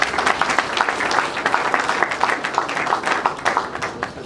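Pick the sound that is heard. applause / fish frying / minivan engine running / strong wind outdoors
applause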